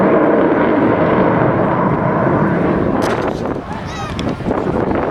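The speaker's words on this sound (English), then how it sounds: "A special tribute to you, ladies and gentlemen, the Avro Vulcan." Avro Vulcan XH558 bomber passing over the beach at an air show, a loud continuous roaring engine howl that dominates throughout with a rising whine near the end, while a commentator talks over it.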